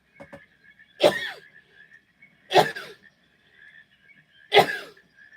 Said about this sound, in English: sneeze. Hold on.